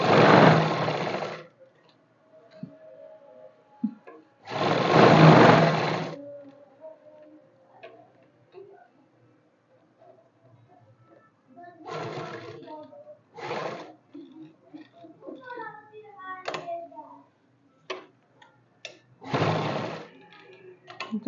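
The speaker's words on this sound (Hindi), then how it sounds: "ये फाइनल सिलाई है इसकी बेल्ट की।" A sewing machine runs the final stitching on a trouser belt in several short, loud whirring bursts separated by pauses, with a person speaking and small handling ticks between runs.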